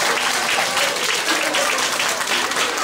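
A kindergarten audience at a Children's Day show gives a loud, dense round of clapping that stays steady and close for the whole few seconds.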